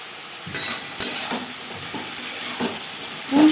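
Slit green chillies and ginger stir-fry in a pan for a Bengali pui shak vegetable dish, a soft sizzle broken by several scraping strokes of a spatula against the pan, close and fairly quiet.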